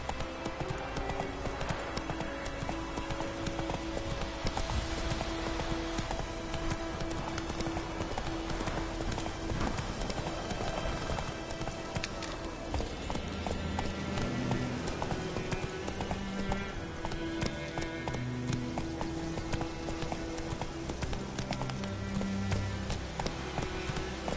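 The horse Roach galloping in The Witcher 3: Wild Hunt, a continuous fast clip-clop of hooves under game music, steady and close throughout.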